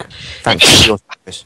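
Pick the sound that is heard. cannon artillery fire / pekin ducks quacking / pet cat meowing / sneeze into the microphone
sneeze into the microphone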